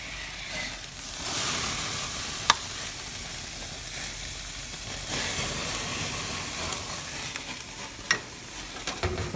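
Lobster tails, shell side down, sizzle steadily on a barbecue grill in a continuous close hiss and crackle, with a few sharp pops and clicks breaking through and no voices.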